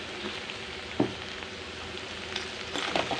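Garlic and rock salt fry in a pan with a soft, steady sizzle. A single spoon knock comes early, and light stirring scrapes follow near the end.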